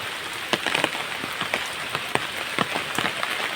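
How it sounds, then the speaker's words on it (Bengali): Heavy monsoon rain pours down in a rural village, a dense steady patter on surfaces with sharper individual drips and splats scattered through it, close and continuous, with no voices. "প্রচুর বৃষ্টি হচ্ছে"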